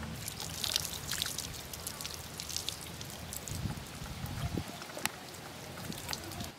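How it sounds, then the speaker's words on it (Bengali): Clean water runs and splashes faintly and steadily over a large chitol fish of about two kilograms as it is rinsed, a soft patter and trickle with no talk. "আর পরিষ্কার জল দিয়ে আর একবার মাছটা ভালো করে ধুয়ে নেব।"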